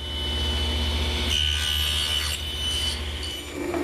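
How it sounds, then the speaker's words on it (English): A hand or machine saw cuts tenon cheeks in mesquite wood held upright in a jig, giving a steady, close, rasping stroke that runs unbroken with slight shifts in tone and no talk. "Using a special jig which holds pieces of wood vertically so that I can run them through the saw, I can complete the cheek cuts on each tenon."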